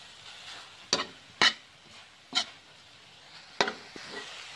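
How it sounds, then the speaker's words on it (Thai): Curry ingredients for a northern Thai frog curry are dry-roasted in a pan, giving a few sharp scraping and tossing strokes over a quiet background, spaced irregularly and heard close up. "คั่วจนแห้งเลยนะจ๊ะ"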